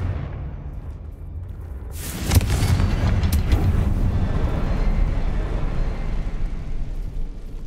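Confringo spell explosion in Hogwarts Legacy: a low background rumble, then a sudden loud blast with crackling bursts that settles into a sustained roaring rumble, no talk.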